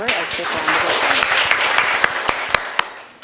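Audience applause at a seminar on gender politics and women's representation, a dense burst of clapping from a roomful of people with a few sharp individual claps standing out near the end.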